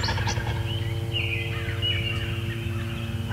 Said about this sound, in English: That might be your last gobble, buddy.